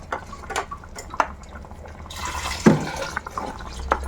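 Kesari-coloured water poured into an apricot dessert in a pot, a short liquid splash and trickle amid small drips and clinks, close and moderately quiet.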